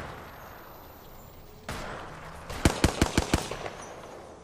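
Apex Legends gunfire in a battle royale match: a rapid burst of five or six sharp, loud shots fires in quick succession near the end, preceded by a steady in-game ambient hum with no talk.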